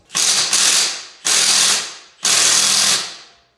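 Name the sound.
removing stuck lug nuts from 240sx wheel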